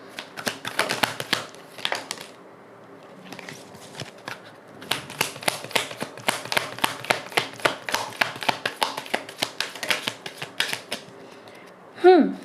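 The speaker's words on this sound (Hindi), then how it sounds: "ओके, एक लास्ट शफल।" A deck of tarot cards being shuffled: quick runs of crisp, clicking riffles in dense bursts with a short pause midway, close and clear, followed by a brief voice at the end.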